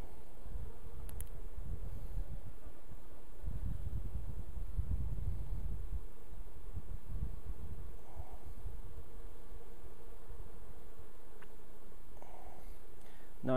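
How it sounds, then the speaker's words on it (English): Bees from an opened hive buzz in a steady, close drone while brood frames are handled, with low rumbling swells and no talk. "And there's bees crawling on me everywhere."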